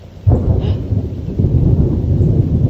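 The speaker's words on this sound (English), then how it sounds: "It started raining, lightning, storming." A summer thunderstorm outdoors near a camper, with a sudden deep crack and rolling boom of thunder over steady hissing rain that lasts throughout, close and fairly loud, with no talking.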